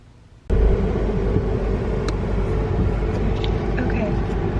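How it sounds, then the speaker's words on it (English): Traffic rumbles past outside a van parked for the night near a college campus, a sudden steady low roar of passing cars heard from inside, with faint speech. "I can hear the cars"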